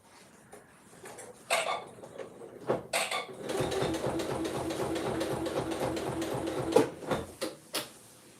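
A sewing machine motor runs while stitching. It starts with a few stuttering bursts, then settles into a steady, quiet mechanical whir with a fast repeating rhythm, broken by small knocks and clicks.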